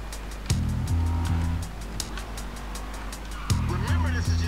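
A car drives in GTA 5, a continuous low engine drone with gear-shift revving bursts near the start and again later, heard under overlapping talk.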